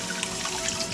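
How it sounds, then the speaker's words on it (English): Hot water runs from a tap onto a towel, a faint steady splashing trickle lasting a moment. "I'm gonna wet this towel in hot water"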